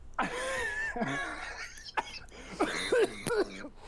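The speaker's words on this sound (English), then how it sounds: "Let me cough first." Several harsh coughs and throat-clearing sounds, close and fairly loud, coming in uneven bursts over a few seconds.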